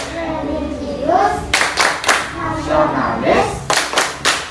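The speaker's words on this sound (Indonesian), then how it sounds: "kita akan melakukan tepuk PPK" Schoolchildren in a classroom perform a rhythmic clapping chant, groups of sharp unison hand claps alternating with a teacher's voice and children calling out words between the clap bursts.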